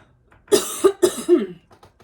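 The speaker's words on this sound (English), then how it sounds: "Uh-oh, hold on, I cough." A short fit of coughing, about four harsh coughs in quick succession, close and fairly loud, then quiet.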